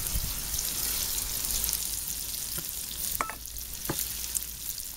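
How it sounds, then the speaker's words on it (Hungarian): Chopped onion and garlic frying in hot fat in a pan for a mushroom and bean stew, a steady broad sizzle throughout with a few sharp pops and stirring clicks near the end. "Aztán a forró zsírba beletesszük a felaprított vöröshagymát,"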